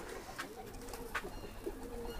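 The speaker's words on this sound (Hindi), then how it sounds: "ये तीसरा पैर है एक और ललसरे कबूतरों का" Lalsare pigeons coo quietly nearby in low, rolling calls, with a few brief chirps standing out and no talk.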